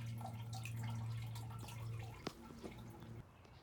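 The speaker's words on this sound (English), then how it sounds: "you can see the water continuing to run in from that soil treatment area, even since this has been pumped down" Water drips and trickles back into a failing septic tank from its soil treatment area, a faint steady run with a low hum and a few isolated drips near the end.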